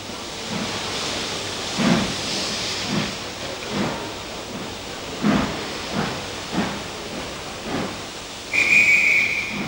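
An N2 steam locomotive restarting its train on a railway, with a series of heavy chuffs spaced apart under a steady steam hiss, ending in a sharp whistle blast.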